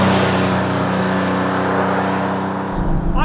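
A modified Porsche 911 with a small-displacement, high-revving engine and stiff track suspension drives and takes a corner, its engine droning loud and close with a steady pitch that shifts near the end.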